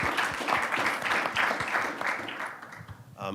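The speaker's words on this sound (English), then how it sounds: "maybe a round of applause for our speakers" An audience at a launch event for election integrity guidelines applauds its speakers: steady, dense crowd clapping that carries on for a few seconds before thinning out near the end.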